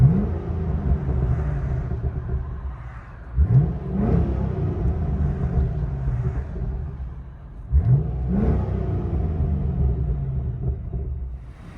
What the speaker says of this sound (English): 2015 Chevy SS resonator delete.